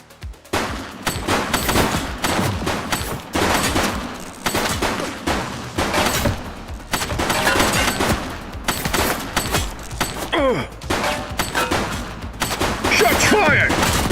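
Rapid bursts of gunfire crack through a firefight in the police video game The Precinct, loud and dense for the whole stretch, with shouted voices over the shooting.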